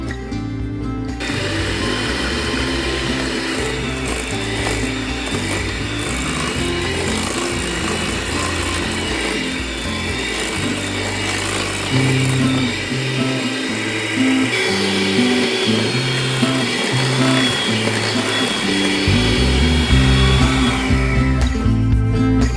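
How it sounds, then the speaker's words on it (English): An electric hand mixer whirs loudly and continuously as it beats four eggs into banana bread batter, its motor pitch shifting slightly as the blades work through the bowl, with no talking. "let's add the 4 eggs and we'll mix with the mixer until creamy"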